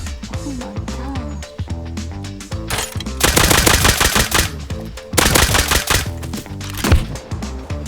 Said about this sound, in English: The nail gun just wasn't working.